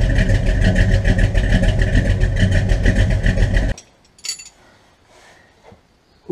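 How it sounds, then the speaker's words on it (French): A 1969 Dodge Charger engine with its exhaust cut-outs closed runs loud and close with a steady, rumbling throb, then cuts off abruptly, leaving faint background noise. "Démarrage cut-out fermé. Ça fait déjà pas mal de bruit comme ça"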